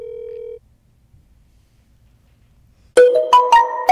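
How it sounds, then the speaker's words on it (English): A short steady tone, a few seconds of near silence, then a loud electronic phone ring of stacked chiming notes as an outgoing call connects. "I'm gonna call my brother."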